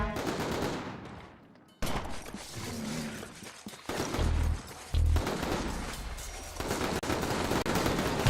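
Enemy gunfire in inFamous comes as loud bursts of automatic fire with heavy impacts, dropping out briefly before the shooting resumes and continues.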